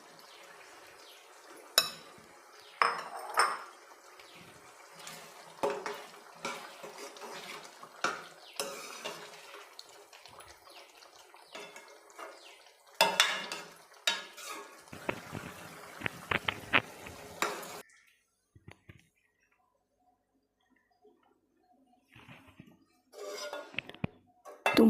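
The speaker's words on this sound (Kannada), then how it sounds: "ನಾನೀಗ ಫ್ರೈ ಮಾಡಿರೋ ಟೊಮಾಟೊ ಈರುಳ್ಳಿನ ಸೇರಿಸ್ತಾ ಇದ್ದೀನಿ" Fried tomato and onion added to a simmering gravy in a pan, giving clinks of a spoon on metal, stirring scrapes and soft sizzling in uneven bursts that fade to near silence, then a few final clatters.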